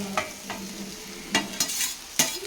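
Chicken egg fried rice is stirred and mixed in a pan, with a few sharp scrapes and clacks of the spoon over a soft, low sizzle.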